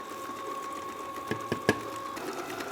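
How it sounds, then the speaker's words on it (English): An electric mixer whisks a pastry mixture of eggs and salt at high speed, giving a steady, fairly quiet mechanical whir with a few faint knocks partway through. "Now it's absolutely necessary to whisk 10 minutes. In high speed."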